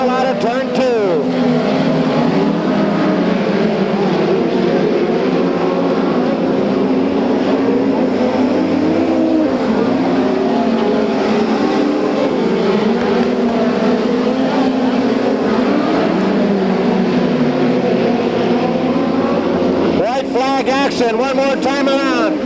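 USAC Western States midget race cars roar nose to tail around the Bakersfield track, engines screaming in a continuous loud drone with pitch rising and falling, while a race announcer talks over them throughout.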